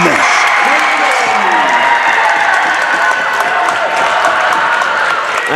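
Loud, continuous cheering and applause from a high school basketball crowd in a gym, a dense roar sustained throughout with a commentator talking over it.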